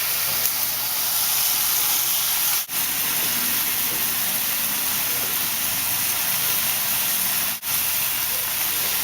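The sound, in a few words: steaks searing and sizzling in a hot pan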